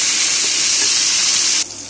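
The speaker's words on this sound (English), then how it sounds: "Meanwhile, our fish is frying." Fish fries in a pan for a Bengali ridge gourd fish gravy, making a loud, close, continuous sizzle that cuts off abruptly near the end.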